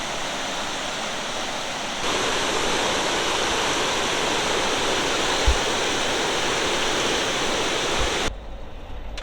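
High, rushing river water in the Great Smoky Mountains near Gatlinburg after Hurricane Ida roars steadily and loudly at close range, a dense unbroken torrent that swells after a couple of seconds and cuts off near the end.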